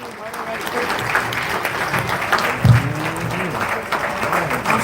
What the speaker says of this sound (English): give a round of applause for Coach David O'Neal